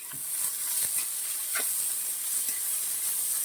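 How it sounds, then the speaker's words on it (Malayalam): Sliced onions frying in a pan while they brown for an egg curry. There is a constant close hiss with a few faint stirring taps and no voices. "ഈ സവോള ഇതിനകത്ത് കിടന്ന് നന്നായിട്ടൊന്ന് ബ്രൗൺ കളറാകട്ടെ"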